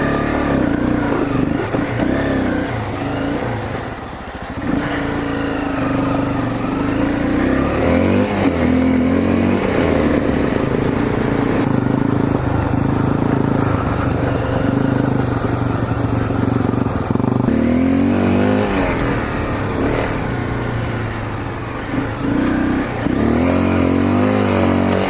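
A motorcycle engine droning and revving steadily while riding in the rain, loud and continuous throughout with faint clatter, and a voice briefly heard over it.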